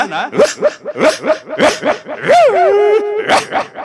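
A comedian on stage at a comedy show imitates a dog, yapping in a quick run of short barks and ending in a longer wavering howl, loud and close.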